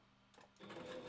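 Sewing machine stitching wolf furs together, starting faintly and then running in a steady, close mechanical whir.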